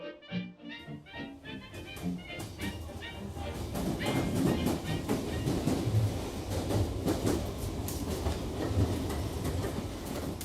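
A passenger train shuttling on a scenic Swedish line rolls along the rails with a building rumble and rhythmic clickety-clack of wheels, heard from aboard and growing louder, with faint voices at the start.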